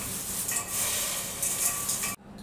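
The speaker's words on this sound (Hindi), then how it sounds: "इसे अच्छे से हल्के हाथ से इसे मिक्स करेंगे" Maharashtrian chiwda, a crispy flattened rice snack, being tossed and mixed gently by hand, giving a steady close rustling crunch of dry flakes that stops abruptly near the end.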